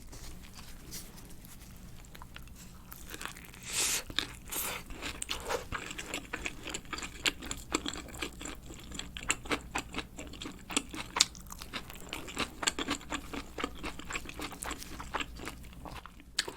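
Crunchy bites and wet chewing of Pizza Hut Ultimate Cheese Pocket pizza with a cheese-filled crust edge, close and steady across the whole stretch, with irregular crisp crunches and soft mouth sounds and no talking.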